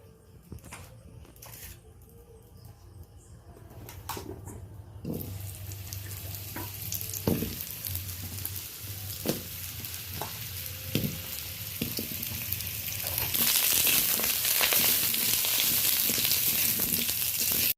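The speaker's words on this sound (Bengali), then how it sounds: "এবার সবজিগুলো হালকা করে একটু ভেজে নেব।" Vegetables frying in a wok over a stove, a continuous sizzle that swells louder toward the end, punctuated by occasional knocks and scrapes of stirring, close up with no voices.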